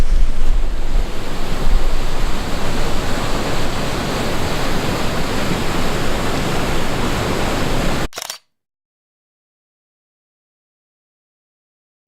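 The Johnston Canyon waterfall in Banff National Park, heard from a bridge railing as a loud, steady, full-bodied roar of rushing water with no talking, cutting off abruptly into silence after about eight seconds.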